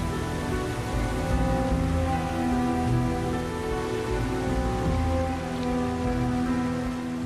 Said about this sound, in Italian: Le gocce d'acqua cadono come bombe. La cascata è impetuosa.